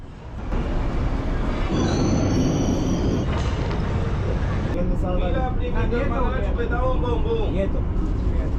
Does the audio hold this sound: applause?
no